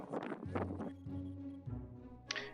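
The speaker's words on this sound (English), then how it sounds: "of course it's very windy." Strong wind buffets the microphone atop the Cliffs of Moher, some 300 meters above the sea, in low rumbling gusts that rise and fall continuously, with a sharper hissing burst near the end.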